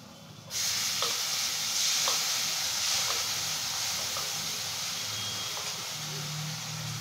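Tomato paste frying with masala for a Bombay duck (lote fish) curry, a steady hissing sizzle that starts abruptly and carries on evenly, with faint background sounds.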